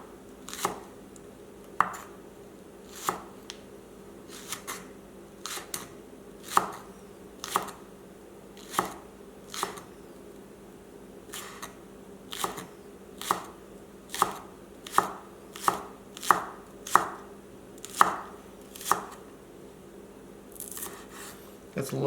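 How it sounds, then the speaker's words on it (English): A knife slices green bok choy stalks thin on a cutting board, crisp regular chops spaced about a second apart that quicken toward the end, close and clear over a quiet hum with occasional speech. "And then put them together and just cut them thin."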